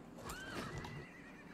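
A horse neighs in the video game Albion Online, a single clear whinny of about a second rising and then falling, loud and close with no talk over it.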